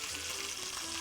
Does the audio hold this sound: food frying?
yes